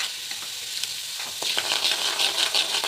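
Urad dal fries in a pan for vallaarai chutney, giving a close, continuous sizzle and crackle with light stirring scrapes, with no voices heard.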